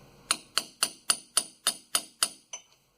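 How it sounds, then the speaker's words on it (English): Eight sharp metallic taps of a small hammer striking a punch while working on a 1997 Chevy 1500's brakes, evenly spaced and ringing, the last one softer. "Smaller hammer and a punch."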